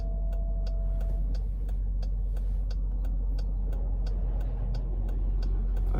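A 2014 Jeep Grand Cherokee with the Hemi V8 accelerating along a road, a steady continuous engine drone and road roar heard from inside the cabin, with regular faint ticking running throughout.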